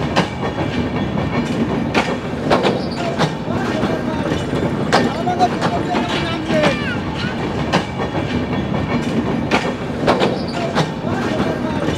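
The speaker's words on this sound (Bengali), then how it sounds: "অনেক সুন্দর ট্রেন। এই যে ট্রেন, এই যে ঢাকা খুলনা," The Dhaka–Khulna train at Khulna railway station rolls past in a continuous loud rumble with regular clickety-clack wheel beats.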